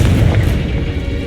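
Confringo spell explosion in Hogwarts Legacy: a heavy, booming blast with a deep rumbling body that stays loud and dense for its whole short length, with no voices.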